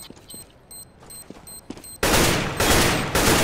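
Rapid gunfire bursts in CS:GO, likely an M4A4 rifle spraying: faint clicks and pops first, then loud, dense sustained automatic fire with brief gaps, close and without speech.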